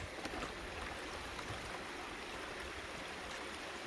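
Water runs steadily down a gold prospecting sluice box carrying sand and rocks, a continuous close rushing wash with no pauses.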